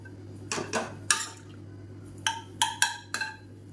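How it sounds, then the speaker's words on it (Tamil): Ladle pressing and mashing soft cooked garlic in a pot of kanji, a series of sharp metallic clinks and scrapes in small clusters against a quiet steady hum, with brief wet sounds between them. "அதை வந்து நல்லா கரண்டியை வச்சு நல்லா அப்படியே அழுத்தி விட்டோம்னா அது அப்படியே கரைஞ்சிரும்."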